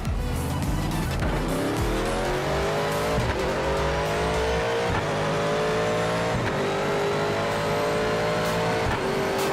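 A classic Ford Mustang in a VR racing game roars loud and close throughout, its engine revving continuously while the tires squeal as the rear end loses grip.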